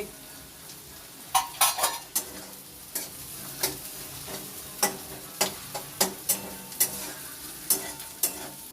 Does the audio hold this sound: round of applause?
no